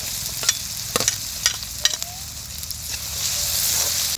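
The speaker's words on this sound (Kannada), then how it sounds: "ಹಸಿಮೆಣ್ಸಿಕಾಯಿ ಹಾಕೋತಾ ಇದ್ದೀನಿ." Chopped onion and green chillies sizzle in hot oil in a pan, a steady frying hiss broken by a series of sharp clinks and scrapes from stirring, close and moderately loud.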